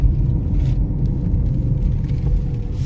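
A 2022 Tata Tigor CNG car drives in third or fourth gear, running on CNG, with a steady, heavy low engine and road rumble heard from inside the cabin, with no voices.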